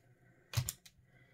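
Old pliers snip through a length of coiled steel memory wire for beaded jewelry, giving a sharp, close cluster of metallic clicks and a second fainter snap in a quiet room.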